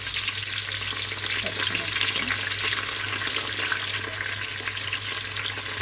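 Onions and curry leaves frying in oil for egg biryani, a steady dense sizzle that runs throughout with a constant low hum underneath and no talk.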